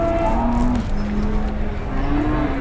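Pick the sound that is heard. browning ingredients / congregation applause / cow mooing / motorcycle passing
cow mooing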